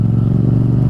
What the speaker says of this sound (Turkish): tabi açık egzoz taktığınız zaman yüksek sesli motosikletlerde ses çok daha güzel geliyor